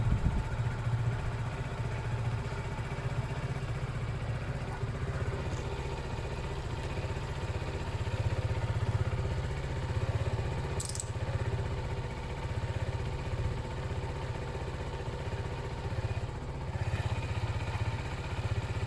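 A Zontes Mantis 125cc motorcycle engine runs steadily nearby, a constant mid-pitched drone with light mechanical clatter, with no one talking.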